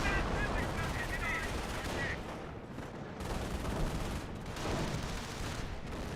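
A Nebelwerfer rocket artillery barrage in Company of Heroes 1 lands as dense, continuous crackling explosions and gunfire, loud and chaotic, with bursts swelling and fading across the span.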